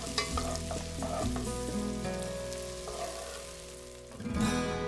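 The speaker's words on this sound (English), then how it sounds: "add some chopped garlic and stir it all around until it's really fragrant" Chopped garlic and onion frying in a pot for pork lomitos, stirred around: a soft continuous sizzle and stirring rustle sitting under prominent background music.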